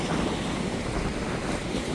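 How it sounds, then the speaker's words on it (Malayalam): Wind blows steadily across an island shore in Lakshadweep during monsoon season, a loud, dense roar buffeting the microphone, with the sea and surf blending in underneath. "ഇപ്പം ഇങ്ങോട്ട് കാറ്റടിക്കുന്നു."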